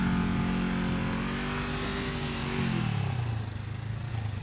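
A motorcycle engine revs high during slow-speed riding practice, a loud sustained whine that holds steady and then drops in pitch as the revs fall.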